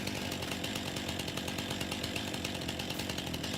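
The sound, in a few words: chainsaw in Farming Simulator 19 video game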